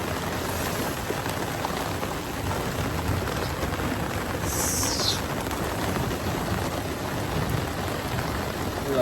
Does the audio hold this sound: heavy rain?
yes